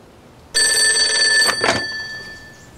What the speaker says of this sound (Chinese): 师座，电话。